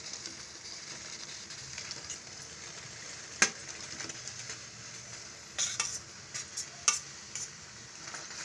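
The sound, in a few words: stirring basmati rice into prawn biryani gravy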